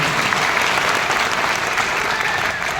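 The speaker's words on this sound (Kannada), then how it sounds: "ಜೋರಾಗಿ ಚಪ್ಪಾಳೆ ತಟ್ಟಿ ನಾವು ಗೌರವಿಸಬೇಕಾಗಿದೆ" A large crowd at a Kanaka Jayanti 2024 gathering in Kalaburagi breaks into loud, sustained applause, a dense, steady wash of clapping that holds for the whole stretch.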